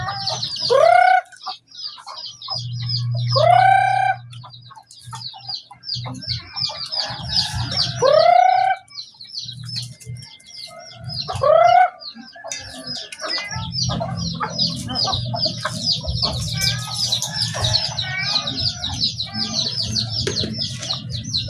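Chickens and chicks cluck and peep nearby. A rooster crows several times over a constant chatter of high chick cheeps, with some low rumbling background noise between calls.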